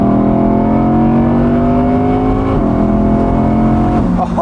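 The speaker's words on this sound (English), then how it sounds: "First time revving it high." Audi R8 engine revving high, its first high rev after running in, a loud sustained note that holds and climbs steadily, then dips and rises again near the end, with no talk over it.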